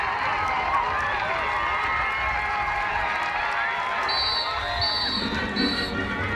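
Crowd cheers at a Georgetown men's college lacrosse quarterfinal against Virginia right after a goal, a loud, sustained roar of a stadium crowd with whistles and shouts rising near the end.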